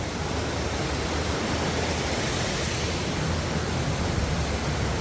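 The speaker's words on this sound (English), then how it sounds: "There's the waterfalls." The Lake Luzerne waterfall pours beside a bridge, giving a constant broadband rush of falling water that stays even and unbroken throughout, with no voices.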